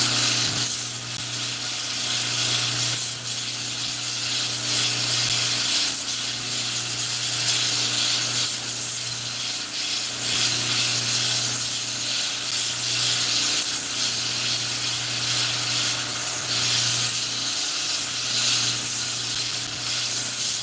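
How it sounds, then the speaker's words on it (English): A recurve bow handle is scrubbed during finishing, giving a steady, continuous abrasive hiss with a faint underlying hum and no talking. "I'm going to go ahead and do that scrubbing motion on the top now."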